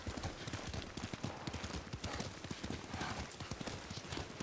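A horse ridden at speed in Ghost of Tsushima gives off rapid, dense hoofbeats in a driving rhythm over a busy, noisy background, with faint voices mixed in.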